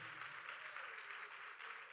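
Applause from an audience at a gathering, a continuous wash of clapping heard faintly and at a distance for about two seconds.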